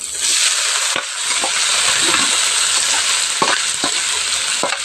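Bitter gourd (ampalaya) fries in a hot pan with a loud, continuous sizzle, punctuated by occasional knocks and clicks of stirring.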